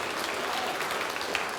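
A church congregation applauds in a brief, dense burst of steady clapping, loud and close throughout.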